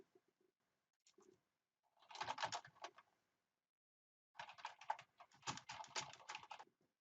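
Keys clatter on a computer keyboard in two quick bursts of typing separated by a short pause, close and fairly quiet in a still room, no voices.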